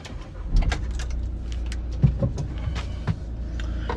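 A VW Caddy 2.0 TDI Bluemotion Tech van from 2016 starts up from the driver's seat. There is a low rumbling idle with a few soft clicks and knocks over it, heard close and steady from inside the cab.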